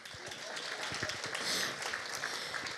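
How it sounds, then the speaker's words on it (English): Audience applause at an awards gala dinner for a university research day fills a large room: dense, steady clapping from many hands, sustained throughout at moderate loudness with no one speaking. "You can applaud."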